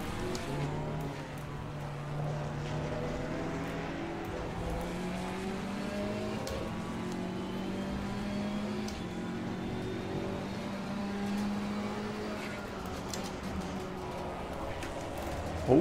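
A GT4 race car in the Assetto Corsa Competizione sim racing game drones steadily throughout, its engine pitch rising and falling through gear changes, heard continuously at moderate level.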